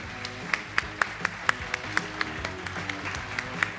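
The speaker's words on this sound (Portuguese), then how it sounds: "uma salva de palmas para o Tiago de novo, por favor" An audience gives Tiago another round of applause at a motivational talk, a fairly sparse crowd clapping steadily with a few sharp individual claps standing out, moderately loud.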